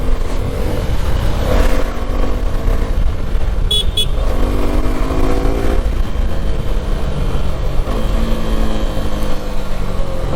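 A 2025 Suzuki V-Strom 250 SX motorcycle running on E20 fuel revs loud and close, its engine note sweeping upward through the gears over road noise, with a short horn-like beep partway through.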